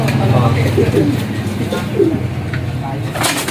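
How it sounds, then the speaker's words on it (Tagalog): Soft pigeon cooing, a few low throaty coos repeating under a steady background murmur. "Gandang ibon."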